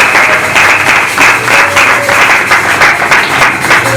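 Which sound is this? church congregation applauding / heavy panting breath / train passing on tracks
church congregation applauding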